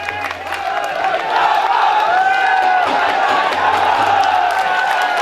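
Crowd at a Congress rally at a bus stand in Ladnun greets Imran Pratapgarhi with loud, sustained cheering and shouts, a dense roar of voices and clapping that swells after the first second and holds steady.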